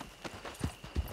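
Horse hooves clopping in the Red Dead Redemption video game, a few soft, low hoofbeats in a short stretch with faint background noise.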